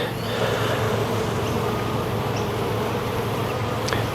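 Honeybees hum in a dense, continuous drone during a brood box hive inspection, a loud, close, steady buzz filling the whole stretch with no voices over it.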